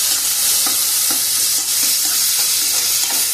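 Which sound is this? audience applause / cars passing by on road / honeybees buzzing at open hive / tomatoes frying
tomatoes frying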